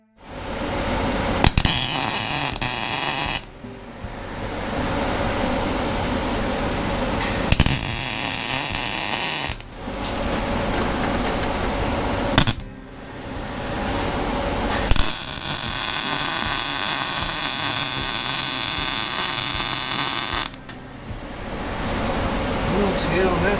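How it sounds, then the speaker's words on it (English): A loud furnace roaring in a workshop during holiday parade float preparation, a steady broadband drone that runs through the whole stretch in abrupt segments, with voices speaking at times. "I didn't realize how loud the furnace was until I started editing this video"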